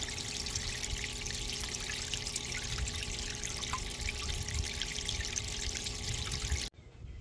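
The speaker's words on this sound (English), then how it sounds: "So as you can see, the water is coming out pretty fast." Water gushing fast out of a homemade water fountain, a dense, steady rushing splash that holds at an even level throughout and cuts off abruptly near the end.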